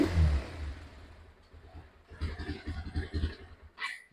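A second-hand, fully customised 2021 motorcycle with 45,874 km on it runs after starting, a low engine rumble that swells into a clattering burst of revving midway, at moderate level with no speech.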